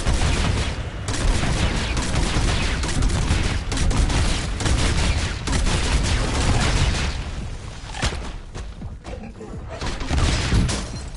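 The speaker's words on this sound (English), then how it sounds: "It's a grenade launcher." A grenade launcher firing rocket grenades in Call of Duty Black Ops 6, set amid dense, continuous gunfire and heavy booming blasts that stay loud throughout, with a brief dip near the end.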